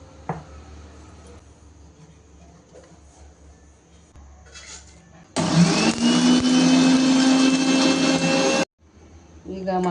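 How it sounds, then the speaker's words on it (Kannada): A kitchen mixer grinder whirs loudly at steady speed for about three seconds while grinding spices with half a nutmeg for Mandya-style cooking, cutting off abruptly, with quieter kitchen sounds before and after. "ಕುಟ್ಕೊಂಡು ಮಿಕ್ಸಿಗೆ ಹಾಕ್ತೀನಿ."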